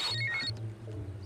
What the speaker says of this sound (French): mes pantalons sonnent. C'est ton téléphone.